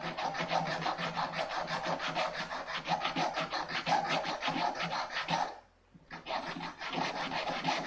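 A wooden aircraft spacer is sanded with an angled sanding block, giving close, rhythmic rasping strokes in quick succession, with one brief pause before the scraping resumes.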